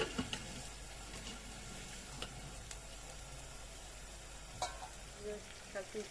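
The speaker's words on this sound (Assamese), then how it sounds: "এতিয়া মই এনেকৈ ঢাকনখন ওপৰত দি অলপ সময় এনেকৈ ভাজি ল'ম।" Steady broadband sizzling of meat frying in a lidded pan, continuous and fairly quiet, with a few soft clicks and knocks from the pan.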